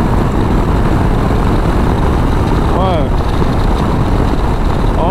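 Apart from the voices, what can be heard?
motorcycle engine accelerating to overtake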